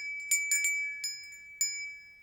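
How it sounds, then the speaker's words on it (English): A reindeer bell heard as someone walks down from a mountain gives several light, bright metallic jingles in an uneven rhythm, each ringing out briefly against near silence. "the reindeer bell, as she was walking down from the mountain"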